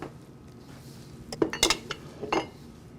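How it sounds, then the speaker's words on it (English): A utensil clinks and scrapes against a bowl while monkey bread batter is mixed, a few sharp metallic knocks clustered near the end over a quiet background. "now you're going to mix all of this together"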